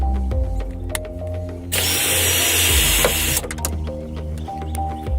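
A power drill spins out a tail light screw on a 1998-2005 Chevy Blazer, a loud steady whir lasting under two seconds, framed by clicks and tool handling.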